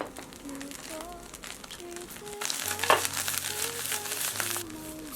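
Torn pieces of steamed bun and set egg are stir-fried in oil in a pan, with a steady sizzle and scraping toss that grows louder midway, under soft background music.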